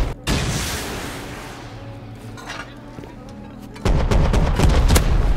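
Gunshots from the video game Rust: a sharp shot at the very start, then a quieter stretch, and a heavier run of loud, close shots near the end.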